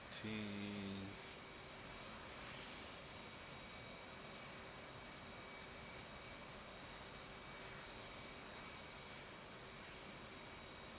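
A steady F-18 jet engine drone from a flight simulator game, a constant whine with a brief louder tonal burst at the start, then a continuous even hum throughout.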